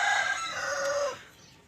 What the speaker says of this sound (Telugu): ఇదిగో షార్ట్ నోస్ పెట్టలు మూడు పెట్టలు నేను సేల్స్ పెడుతున్నాను ఇప్పుడు